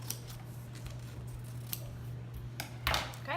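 Scissors cut paper for a craft in a few brief, crisp snips spread across the moment, faint against a steady low hum, with no talking.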